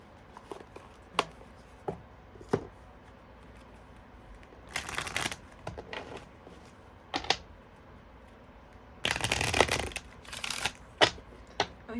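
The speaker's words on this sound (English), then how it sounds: "let's get some Kipper cards out on the table." Kipper cards being shuffled and laid out on a table, soft papery riffles and flicks in short bursts with light taps in between, close and fairly quiet, no talking.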